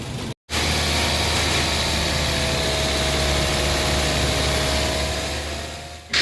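A Toyota Vios engine revs and holds a steady, loud drone during coolant bleeding, with a brief dropout near the start and the sound easing slightly toward the end.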